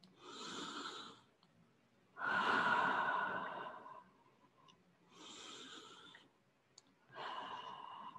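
Slow yoga breathing comes close and soft, with long airy inhales and exhales alternating, four drawn-out breaths with quiet gaps between them.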